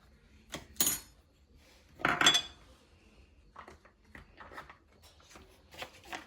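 Fish being mixed with salt, fish seasoning and paprika in a dish, heard as a few scraping, clinking strokes of a utensil against the dish, close and fairly quiet, with no one talking.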